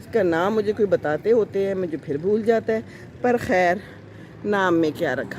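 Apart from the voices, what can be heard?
None of the usual background noises is heard.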